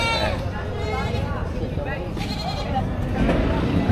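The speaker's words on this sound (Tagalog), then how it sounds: "Kakarating lang na kambing dito." Goats bleat repeatedly at a busy livestock market, wavering calls rising over steady crowd murmur and nearby talking.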